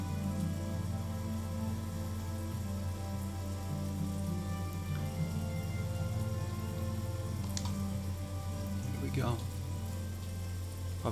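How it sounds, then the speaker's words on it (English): Steady rain in The Walking Dead: Michonne video game, a dense, even hiss of falling water that runs unbroken throughout, with a low hum beneath it and a brief sliding tone near the end. "sounds like the rain"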